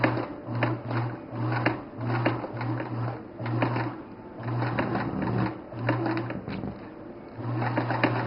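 A sewing machine stitches a seam for custom orthotics in repeated bursts of rapid, steady whirring, pausing briefly between runs, close and clear with no talking.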